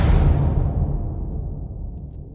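A processed trailer-style whoosh hit opens with a loud, dense, bass-heavy impact. It then decays into a long, darkening rumble tail. No one speaks.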